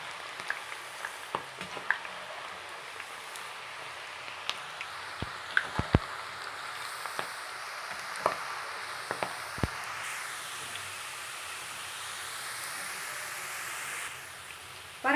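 Field beans fry in hot oil for a mochakottai mixture, a soft steady sizzle with scattered crackles and pops, quiet and close, with no talking.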